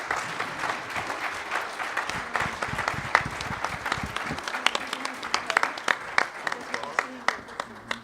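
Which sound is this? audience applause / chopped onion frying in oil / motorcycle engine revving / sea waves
audience applause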